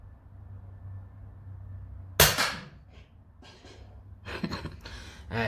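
A single sharp FX Wildcat air rifle shot cracks out loud in a back garden, followed by a short ringing tail, with scattered quieter rustles and bursts of handling noise afterwards.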